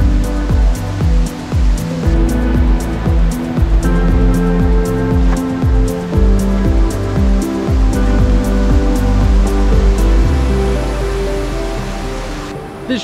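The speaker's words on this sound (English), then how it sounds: "As you can hear from the noise behind me, I've made it down to the river level." Rushing river water at river level below Casaroro Falls in Negros, Philippines, a steady loud broadband roar running throughout, with no talk over it.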